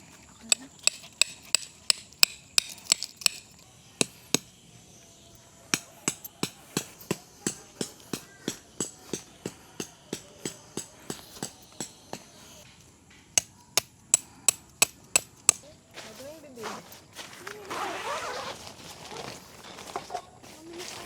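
A hammer drives tent pegs into the ground at a family campsite, with long runs of sharp, evenly spaced strikes and brief pauses, then rustling and faint voices toward the end.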